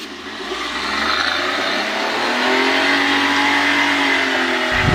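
A Datsun redi-GO car engine revs hard and steadily on a rough road, a loud continuous drone that rises in pitch toward the end, with no voices.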